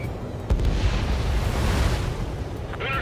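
Anti-aircraft fire and explosions in the combat flight game Ace Combat 7, a dense, continuous barrage of booming blasts and rumbling bursts, loud throughout, with a sharp hit near the start.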